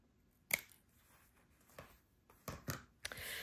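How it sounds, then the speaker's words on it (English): Scissors snip the overhanging ends of a washi tape strip on a handmade Christmas sachet, giving a few sharp, close cuts spaced over a few seconds in a quiet room. "snip my sides off."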